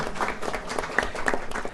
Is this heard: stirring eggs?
no